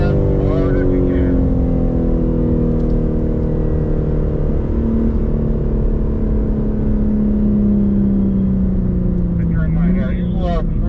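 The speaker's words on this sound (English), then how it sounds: "go gas as hard as you can" BMW M car accelerating hard on a race track, its engine note rising steadily and loud throughout, with a shifting harmonic tone and people talking over it.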